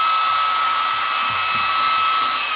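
A steady, loud rush of hot air from a heat gun with a constant motor whine, unbroken for the whole stretch and close by, used to seat a head on a drum.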